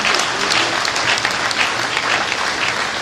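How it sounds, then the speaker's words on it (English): Audience applause at a members' induction ceremony: a steady, dense wash of many hands clapping together, loud and continuous through the whole moment with no voices on top. "he deserves a sounding round of applause"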